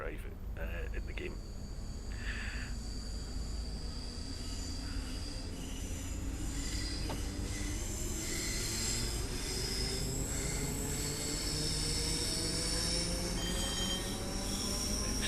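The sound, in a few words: ScotRail train running in a video game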